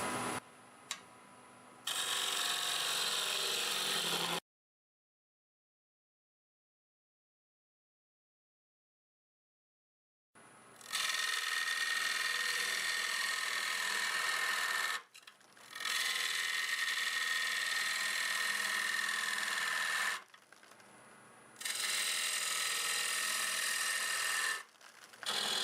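A wood lathe spinning at about 1300 to 1400 RPM hollows a black locust bowl, the gouge scraping in several long, loud passes broken by short pauses and one long silence.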